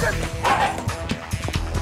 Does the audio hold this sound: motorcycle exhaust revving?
no